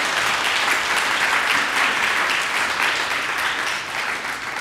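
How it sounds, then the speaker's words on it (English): Audience at a UBC Reading Week kick-off orientation gives a steady round of clapping, dense and sustained at close range for nearly five seconds with no voices over it. "just a round of applause"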